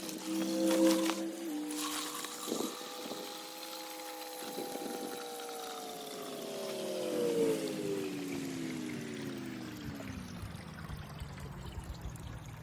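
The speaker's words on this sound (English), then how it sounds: "So I'm taking a bucket to fill up with water." A bucket fills with water from a running stream that pours in steadily. The tone rises gradually as the water level climbs, alone with no talk.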